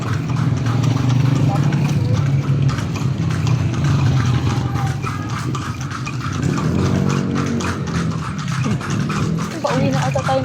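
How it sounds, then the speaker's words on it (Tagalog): A horse pulls a kalesa through the streets of Vigan, its hooves making a steady, close clip-clop on the pavement with a faint engine hum underneath, while passengers chat throughout. "Buti hindi nadudulas yung kabayo mo kaya."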